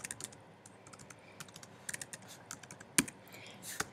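Typing on a computer keyboard: irregular, light key clicks close to the microphone, with a couple of sharper taps near the end and no speech.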